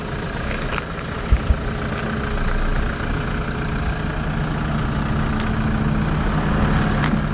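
A small Ford Fiesta car engine idles and runs steadily, a continuous low rumble with a couple of brief knocks near the start and a slight swell in level partway through.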